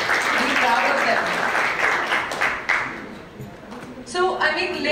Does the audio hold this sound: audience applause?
yes